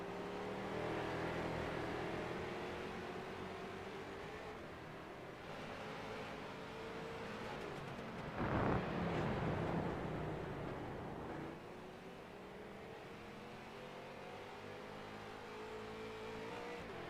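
Stock race cars on the Daytona road course in a racing video game, engines droning steadily with rising and falling revs, and a louder surge as a car sweeps past midway, with no voices.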